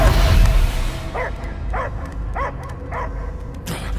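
A dog barks in the video game Guardians of the Galaxy, five short evenly spaced barks at moderate distance over a steady low rumble of ambient noise.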